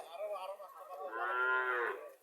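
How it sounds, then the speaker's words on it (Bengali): A cow at a busy cattle market in Mirsani Bazar, Chauddagram, Cumilla, lets out a single loud, close moo that swells into a long, strained bellow and fades after about two seconds. "আরো একটা হাড্ডিসার গাবি আসতেছে"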